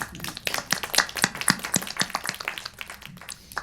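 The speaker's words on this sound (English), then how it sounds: "a round of applause for Northrop" A burst of clapping from an audience at a panel event, dense and steady for a few seconds, fairly close.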